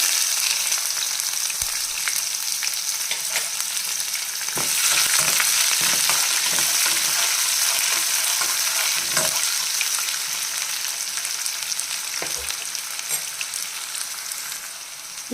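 Onions frying in hot oil after chana dal has browned, a steady bright sizzle with intermittent spoon scrapes and stirring knocks throughout, close and continuous with no talking.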